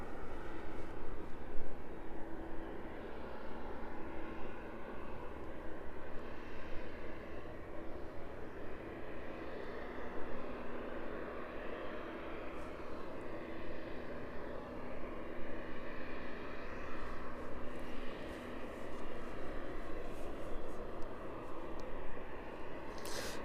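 Aircraft on an airport runway at East Midlands Airport, a steady distant engine roar and whine that holds for over twenty seconds with no voices.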